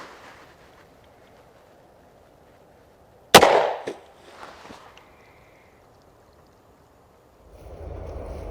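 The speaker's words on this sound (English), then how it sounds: "I can shoot straight into these jugs" A single sharp 9mm pistol shot, a Sig 124 grain V-Crown load fired outdoors into a row of water jugs, cracks out loud and close, followed by splashing and clattering debris, then quiet before a low rumble rises.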